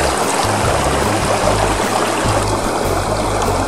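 Water runs steadily from a tap at a lakeside campsite while hands are washed, a close, continuous splashing stream with low rumbling underneath and no talking.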